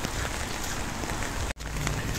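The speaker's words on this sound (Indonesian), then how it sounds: "hujan lumayan deras juga hari ini" Heavy rain pours steadily in the early afternoon, a dense, continuous hiss close by with a single brief dropout near the end and no voices.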